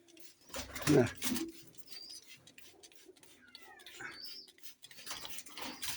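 Pigeons in their coop give soft, intermittent coos with a few faint chirps, mostly quiet. A short louder thump of handling noise comes near the start.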